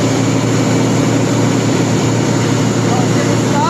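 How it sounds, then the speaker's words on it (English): A diesel generator set's engine runs at a steady, loud drone with a constant low rumble and no breaks, and it continues evenly from start to finish. "Now I'm going to start the engine."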